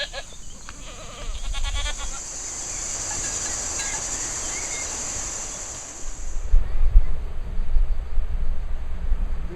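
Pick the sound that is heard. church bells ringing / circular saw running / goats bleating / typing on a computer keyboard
goats bleating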